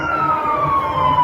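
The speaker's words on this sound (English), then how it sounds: "excuse the sirens." Emergency vehicle sirens pass outside, a steady wailing tone gliding slowly downward at moderate distance, heard indoors with faint background noise.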